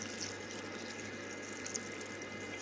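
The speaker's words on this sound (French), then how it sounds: "je vais rajouter un demi-litre d'eau chaude." Half a litre of hot water pouring into a risotto pot with prawns, a steady faint rushing stream running continuously without break.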